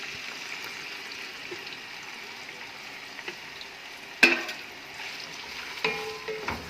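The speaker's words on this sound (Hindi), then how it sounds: "घी हल्का सा गर्म हो चुका है। अब इसमें बॉईल किया हुआ चिकन डाल देना है।" Boiled chicken pieces frying in lightly warmed ghee in a pan, a soft steady sizzle with a few sharp clinks and stirring scrapes, close and fairly quiet.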